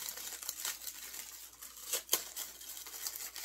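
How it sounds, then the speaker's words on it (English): Pretty foil wrapping on a Christmassy gift crinkles and rustles in irregular bursts close by, with one sharper crackle midway and no voices. "I love the pretty foil wrapping on here."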